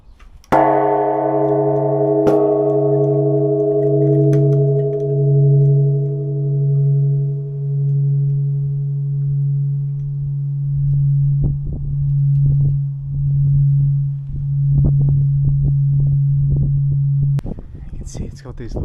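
Large temple bell struck once in Fukushima, Japan, then left to ring out in a long, loud, pulsing hum that slowly fades over many seconds, with faint scattered handling noises near the end.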